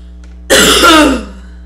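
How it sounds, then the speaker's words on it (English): A single harsh throat clearing, close and loud, rough enough to border on a cough, over a faint steady hum. "That was gonna be a real cough."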